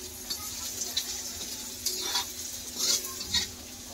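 Onion and green chili tempering sizzling in a pan for a village-style radish bhaji, a steady close frying hiss with occasional scrapes and stirs of a utensil, no talking.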